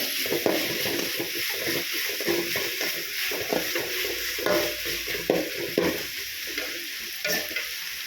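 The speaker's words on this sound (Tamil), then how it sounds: "உப்பு கொஞ்சம் போட்டு வதக்கணும்னா கொஞ்சம் சீக்கிரம் வெந்து வந்துடும் நம்மளுக்கு" Chopped tomatoes with salt sauté in a pan, giving a loud, dense, continuous sizzle with frequent scraping stirs of a spoon, close up and without talking.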